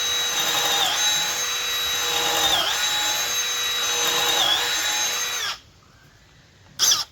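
A Milwaukee M12 Fuel or DeWalt 12V Xtreme cordless drill at speed 2 bores with a 3/4 inch paddle bit, a loud steady motor whine dipping slightly under load several times before cutting off, followed by a short final burst.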